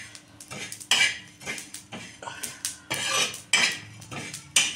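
Coriander seeds, cloves, black pepper and fenugreek powder dry roast in a pan, with a spatula scraping and clattering against the metal in repeated, uneven strokes, close and fairly loud, with no talking.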